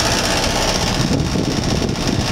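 Broan 3-ton heat pump running outdoors, its fan blades turning with a steady, loud, close whoosh and a mechanical hum that holds constant throughout.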